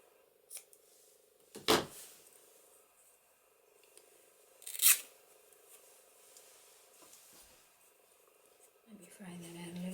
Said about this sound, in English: So I'm going to cut that.